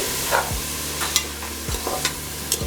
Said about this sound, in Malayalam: അപ്പോൾ നമ്മൾ ഈ അരിഞ്ഞ് വെച്ചിരിക്കുന്ന പച്ചക്കറികൾ ഓരോന്നായിട്ട് ഇടുക. പീസിട്ടു